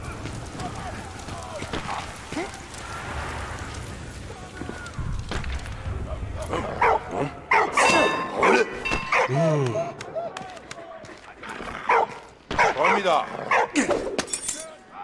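A dog barks in the World War I video game Valiant Hearts: The Great War, several sharp barks rising over game music and effects while someone talks throughout.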